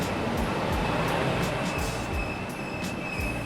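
Steady rumbling train noise from inside a moving carriage in Germany, with a continuous high whine and faint periodic rhythmic clicks of wheels over the rails.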